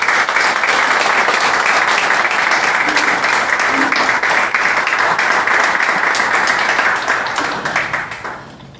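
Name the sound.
audience applause at a church press conference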